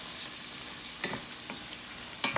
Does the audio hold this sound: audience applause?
no